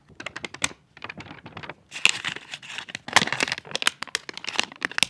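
Crisp paper 100-dollar banknote crinkling and snapping close up, in quick irregular bursts of rustles and flicks with brief pauses between.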